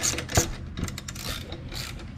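Ratchet wrench tightening a bolt on a cold air intake of a Solstice GXP / Saturn Sky / Cobalt 2.0L LNF turbo engine, a run of close, loud clicking bursts with no talk.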